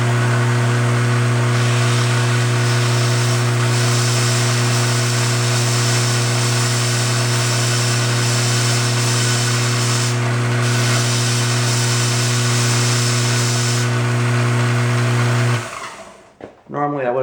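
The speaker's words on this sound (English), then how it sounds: "We're just going to sand a taper onto it until it fits." A power sander grinds a taper onto a painted graphite golf shaft, a loud, steady humming whine with a strong low drone that runs unbroken at close range, then cuts off abruptly near the end.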